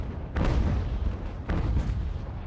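Broadside cannon fire pounds at ships during a naval battle in Ultimate Admiral: Age of Sail: two loud, deep booms about a second apart over a constant rumbling roar of combat.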